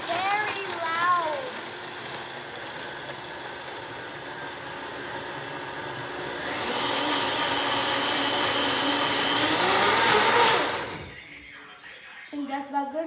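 A blender whirs while making a smoothie, its motor building to a loud steady roar for several seconds before cutting off, with a child and an adult talking before and after.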